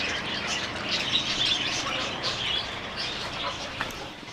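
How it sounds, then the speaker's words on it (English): Parakeets squawk and chirp in a busy flock along a street in Pattani, Thailand, their harsh calls fairly steady over constant outdoor background noise. "The parakeets."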